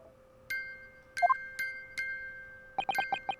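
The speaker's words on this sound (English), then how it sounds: "Just what relevance do you propose this woeful chiming has on this case?" A woeful music box chimes in the courtroom game The Great Ace Attorney: a few sparse single tones, then a quick run of five bright notes in steady rhythm, clear and alone over a quiet background.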